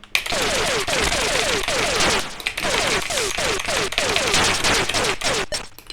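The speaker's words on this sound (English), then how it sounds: "So it drops a bomb." Blood Money on the Atari ST drops a bomb in a loud, continuous burst of retro game noise: rapid clattering bursts laced with short descending whistling tones that repeat in quick clusters for several seconds.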